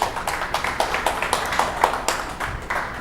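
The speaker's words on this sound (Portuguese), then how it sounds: "Uma salva de palmas para o José, está a fazer um trabalho incrível" A small gathering claps for José at a faith meeting, the sharp claps scattered and uneven, moderately near and fading after a few seconds.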